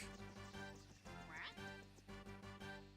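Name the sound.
duck quacking in video game Toontown Rewritten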